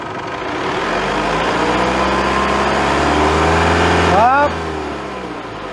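An Isuzu MU-X engine revs and holds around 2500 rpm, a steady rising drone with a turbo whine, then drops back abruptly to idle near the end while a voice calls out.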